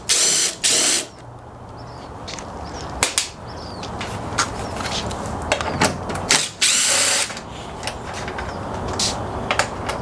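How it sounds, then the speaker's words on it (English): A drill with a 10mm socket spins out headlight bolts on a Dodge ProMaster in bursts, with short buzzing runs, ratcheting clicks and scattered clacks between them, close and fairly loud. "I'm going to use a drill and a 10mm socket"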